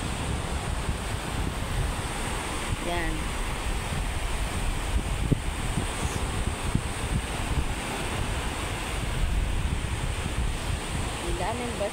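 Sea waves washing onto a littered shore, a continuous rushing surf mixed with heavy wind buffeting the microphone, with a person talking briefly over it.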